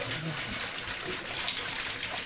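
Water running into a plastic 2 liter bottle being rinsed for food storage, a steady close rushing and splashing that lasts throughout, with a voice talking faintly beneath it.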